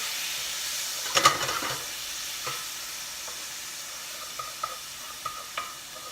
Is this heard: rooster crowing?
no